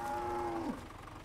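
A cow in the Farming Simulator 17 video game gives a single short moo that rises and cuts off, clear and fairly close, with no talking over it.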